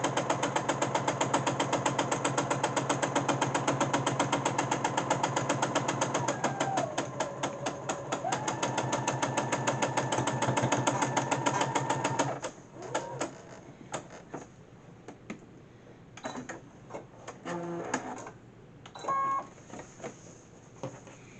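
A sewing machine stitches rows of a quilt top with fast, even, rhythmic clatter for about twelve seconds, then stops. Scattered handling knocks and short stitch bursts follow, fairly close and with no speech.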